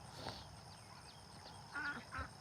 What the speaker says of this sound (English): oh, they're chasing ducks